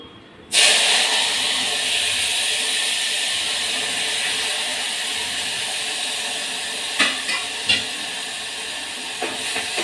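Tomatoes hit a hot pan for an onion-free Punjabi chole masala, giving a loud, steady sizzle that starts abruptly and holds, with a few clinks of a utensil near the end.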